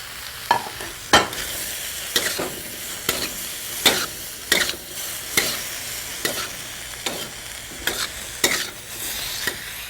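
Tomatoes with turmeric and salt being stirred in a pan, a spoon scraping in a regular rhythm of about a dozen sharp strokes over a low sizzle.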